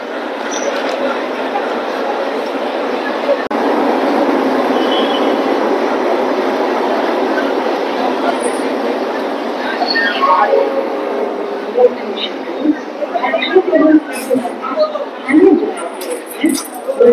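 A long-distance express train rumbles steadily at a Kolkata railway platform, with a continuous low roar and some squealing, passing clatter and faint voices toward the end.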